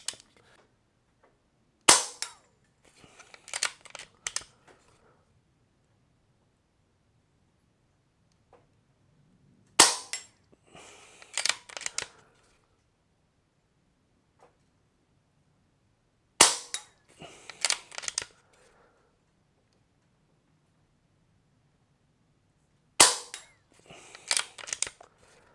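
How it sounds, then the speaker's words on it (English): A Brocock Bantam Sniper HR air rifle fires Polymag pellets: five sharp, dry cracks spaced several seconds apart, each followed by a brief clatter, with quiet pauses between shots and no talking. "Now we're going to start with the Polymags. Put 5 rounds down range"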